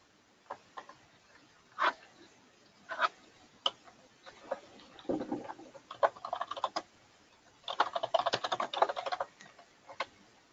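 Someone types on a computer keyboard, entering details into office software: scattered light key clicks in short bursts, then a quicker run of presses near the end, close and fairly quiet with no talking.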